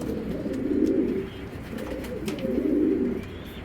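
Giribaz pigeons cooing close by in two long rising-and-falling swells of low, throaty cooing, with no voices over them.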